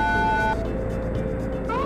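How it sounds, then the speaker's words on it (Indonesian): A steady electronic old police car siren with a wavering pitch from the game Car Driving Indonesia, loud and close, over a rumbling engine-like drone. "Ini benar-benar kayak suara mobil polisi lawas ya."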